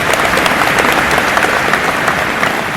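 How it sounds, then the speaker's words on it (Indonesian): Sustained, dense applause from a large audience at an Indonesian public gathering, loud and steady throughout with no voices rising above the clapping. "Tepuk tangan Bapak Ibu sekalian"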